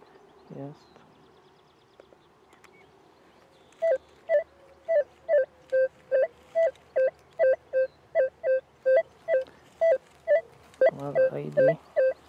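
Rutus Alter 71 metal detector sounding over a 1923 nickel 50-grosz coin: a run of about fifteen short, evenly spaced electronic beeps in steady rhythm, clear and close, with brief noise at the start and end.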